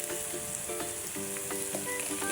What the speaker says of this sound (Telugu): ఈ బెండకాయ ముక్కల్ని వేసేసుకొని మంచిగా ఆయిల్లో ఫ్రై చేసుకోవాలి